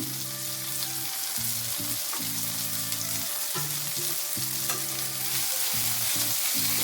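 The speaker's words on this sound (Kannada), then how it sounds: "ಈಗ ಇದನ್ನು ಚೆನ್ನಾಗಿ ಮಿಕ್ಸ್ ಮಾಡಿ ಇನ್ನು ಒಂದು 2 ಮಿನಿಟ್ಸ್ ಫ್ರೈ ಮಾಡ್ಕೊಳ್ಬೇಕು." Tomato soup base seasoned with salt and pepper fries on a low flame in a pan, sizzling steadily up close while repeated scraping stirs come and go in uneven bursts, with no voices.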